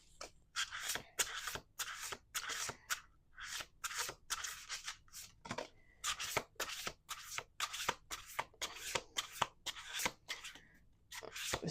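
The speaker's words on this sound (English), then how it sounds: "Last shuffle." Rapid riffle shuffles of tarot cards, a quick burst of crisp fluttering repeated over and over in close succession, loud and near.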